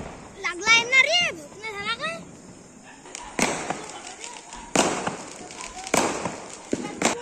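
Diwali firecrackers burst in several sharp cracks spread over a few seconds, following whistling and chirping sounds, with voices talking nearby.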